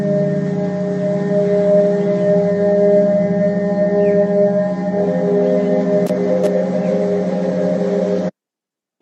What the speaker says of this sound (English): Then you'll see a vocal enhancement frequency.